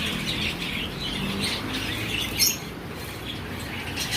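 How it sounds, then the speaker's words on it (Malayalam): Pigeons and lovebirds in an aviary give faint, scattered chirps over a steady background hum, with one brief louder flutter or squawk partway through. "അത്യാവശ്യം കിളികളൊക്കെ ഉണ്ട് ഇവിടെ."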